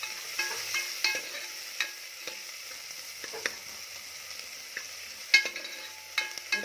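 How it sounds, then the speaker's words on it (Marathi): Onion with a pinch of salt is sautéed in a pan: a quiet, low sizzle punctuated by scattered light spatula scrapes and taps at an unhurried pace. "कांदा आपल्याला परतून घ्यायचा आहे"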